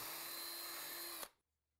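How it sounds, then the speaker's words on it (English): A power drill bores pilot holes into southern pine cleats for a garden storage bench, a steady loud whine running alone for over a second before cutting off abruptly into silence. "Then drill pilot holes at each mark."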